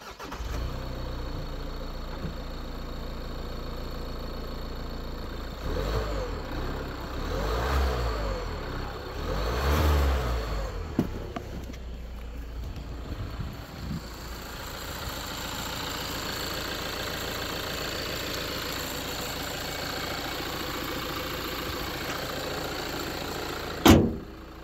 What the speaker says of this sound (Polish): No, typowy diesel, którego słychać też w kabinie.